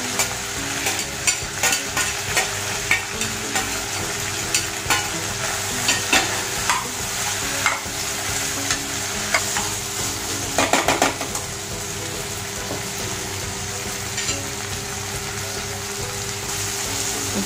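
Grated fresh coconut is stirred and fried in a pan for a vegetable kurma, giving a steady sizzle with repeated scraping and clinks of a spoon against the metal, close up and without talk.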